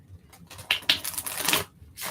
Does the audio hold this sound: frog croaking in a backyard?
no